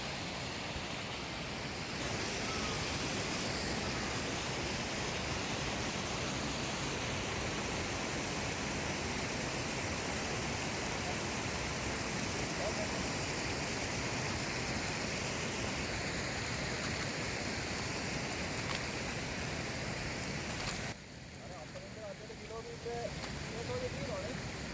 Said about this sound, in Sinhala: මේ තව බොර වතුර එනවා.